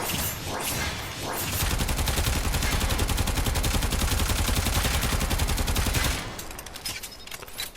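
Zenith assault rifle in Warframe firing full auto, a loud, dense stream of rapid shots running unbroken for about four and a half seconds, then cutting off into quieter game noise.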